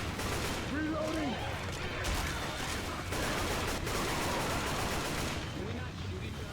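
Rapid gunfire from weapons in Left 4 Dead, dense overlapping bursts running nearly the whole time at a steady loud level, with voices talking over the shooting.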